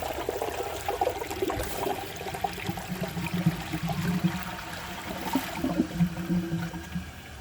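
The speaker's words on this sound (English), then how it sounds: "I'm gonna pull that out, and I'm gonna try to flush it again." A 1996 Universal-Rundle Atlas toilet flushes, giving a steady rushing and gurgling of water close by, swelling and easing over several seconds.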